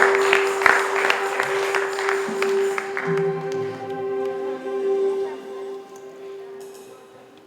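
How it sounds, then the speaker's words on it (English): Audience applause fills a general session at a Bible holiness youth camp, a burst of clapping that thins and fades over several seconds beneath a steady sustained tone and a low hum. "please give a big round of applause"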